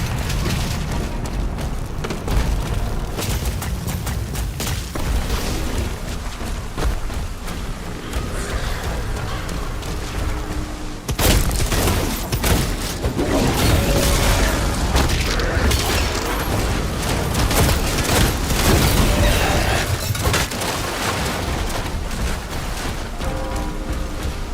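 Heavy hand-held cannon firing in the video game Doom The Dark Ages, a dense, loud barrage of booming blasts and mechanical clanks over a constant roar of combat, intensifying after a brief break midway.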